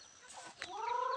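Several backyard chickens cluck and call on a farm in a rural province, with a rising, drawn-out fowl call toward the end, moderately close and with no talk over it.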